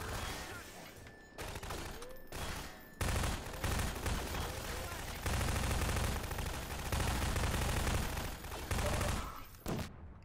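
Gunfire in Half-Life 2 as the player shoots at people: loud bursts of rapid automatic fire broken by short pauses, then longer sustained volleys later on.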